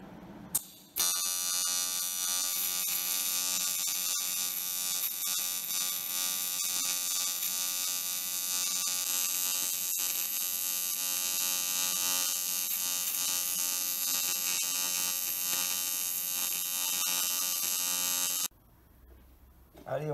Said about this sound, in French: On va souder.